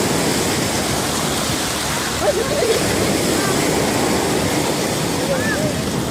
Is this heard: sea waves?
yes